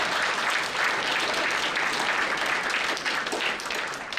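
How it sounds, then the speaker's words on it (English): An audience at a comedy show applauds continuously, a dense wash of many hands clapping at steady volume throughout, with no voices rising above it. "Give yourselves a round of applause for just being here this evening"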